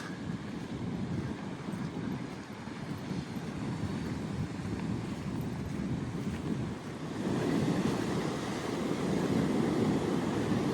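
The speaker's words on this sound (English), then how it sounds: "I'll walk out here and get you right up towards the Atlantic Ocean" Surf rolls in on the Atlantic at St Augustine Beach, a steady broadband wash of breaking waves with some wind buffeting the microphone, swelling louder in the last few seconds as the tide comes in.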